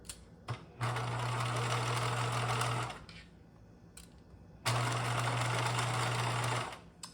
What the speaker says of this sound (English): I'm stitching along the folded edge, and I'm going to stitch as close as I can without going over.